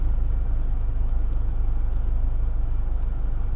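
Inside a moving car, a steady low rumble of road and engine noise, constant and fairly loud throughout, with no talk.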